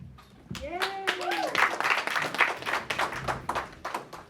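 A ceremony audience in Plainfield, New Jersey gives a round of applause, with steady clapping under a speaker's voice and a brief musical tone near the start.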